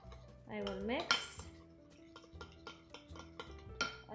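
A spoon clinks and scrapes against a bowl while Dijon mustard is mixed, a series of light, fairly close taps and chinks, with a brief wavering tone near the start.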